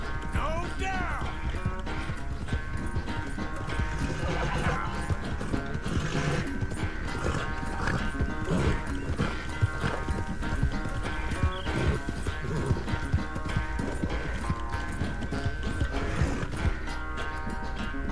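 A horse gallops in Red Dead Redemption 2, its hooves clip-clopping in a fast, steady rhythm that runs the whole time, loud and close, layered over dense game sound with a neigh or two.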